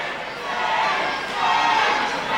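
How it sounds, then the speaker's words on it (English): An arena crowd chants for boxer Terri Diamond before her fight with Steph Killick, a broad, steady roar of many voices swelling and easing at a moderate distance. "Chants of Terri throughout the arena."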